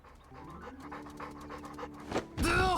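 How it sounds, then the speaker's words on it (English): A dog pants rapidly in the video game Trails Beyond the Horizon, quick rhythmic breaths in a steady series, followed by a louder burst of sound at the end. "There's the dog."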